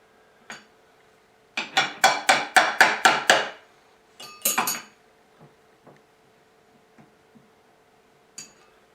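A hammer taps a nut on a Deckel machine, giving a quick run of about eight sharp metallic taps, then a short cluster and a few scattered faint clinks in a quiet room.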